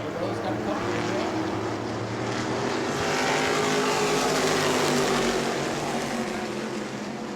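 Race cars roar around a short oval track at New Smyrna during a weekly racing event, a dense steady engine drone that swells slightly mid-clip, with no clear voices over it.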